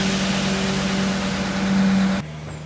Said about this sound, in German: LKW-weise wird geprobter Boden für die Verfüllung der Baugruben und den Außenanlagen angeliefert.